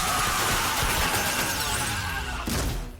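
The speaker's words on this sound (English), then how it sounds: "In the battle, the meteorite shatters" A meteorite shatters during a battle in the 2013 animated Max Steel, heard as a loud, dense crackling crash that runs continuously and then ends in a sharp final burst before fading.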